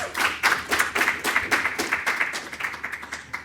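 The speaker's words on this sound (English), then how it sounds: "Another round of applause for Margot." An awards ceremony crowd claps for Margot, loud and close, with distinct bursts of hands in a quick uneven rhythm that gradually thins.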